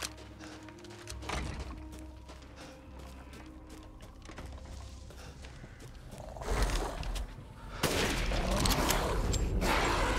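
Gunfire in Resident Evil Village, a string of sharp shots early on, then thudding, roaring bursts of combat noise that grow louder and denser toward the end.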